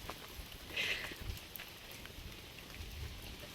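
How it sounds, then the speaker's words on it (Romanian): Rain falling in the Panama jungle, a steady dense hiss of drops with scattered louder pattering, soft and continuous throughout. "Atât ce îmi pare rău că prinde mereu doar vreme ploioasă."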